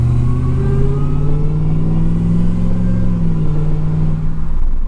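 Dodge RAM 1500 pickup with a swapped-in Hellcat engine accelerates on a test drive, a loud, steady, deep growl from inside the cab that rises in pitch and then drops as it shifts, with no talking.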